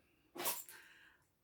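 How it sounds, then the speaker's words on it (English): A single sharp, breathy dog sneeze bursts out, short and fairly close, then fades into quiet room tone. "that was my dog sneezing"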